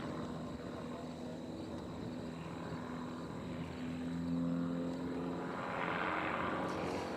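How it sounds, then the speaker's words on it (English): A Pitts biplane's propeller engine drones through aerobatic flight at a national competition, a sustained distant buzz whose pitch and loudness swell and fade as the aircraft maneuvers, heard alone without talk. "Really beautifully flown. Nice flying airplane."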